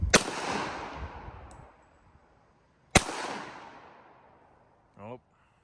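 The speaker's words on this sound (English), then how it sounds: "First shot, we have a malfunction here." Two loud, close gunshots from an M1911A1 pistol fired at a range, each a sharp crack with a long ringing decay several seconds apart, followed by a brief metallic clatter at the end as the pistol malfunctions.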